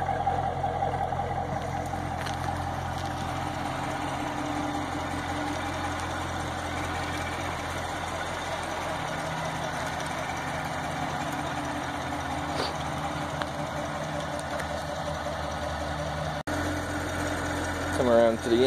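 A 2016 Chevrolet Corvette Stingray with true dual exhaust idles in a low, steady rumble at close range, with a person talking over it throughout.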